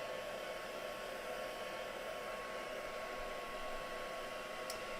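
A hair dryer runs steadily on a mixed media craft piece, a constant close whoosh of airflow with an even, unbroken level and no pauses.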